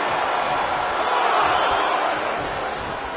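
Roaring arena crowd in the WWE 2K25 wrestling video game during a women's match, a dense, steady wash of cheering that holds loud and constant throughout with no break.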